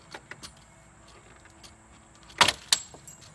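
A trim piece pried off the quarter window of a Fox Mustang makes a handful of close clicks and taps, then two louder plastic snaps as it comes free, with no talking.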